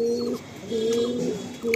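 A pigeon for sale coos close by in low, rounded phrases, three bursts in quick succession with short pauses between them.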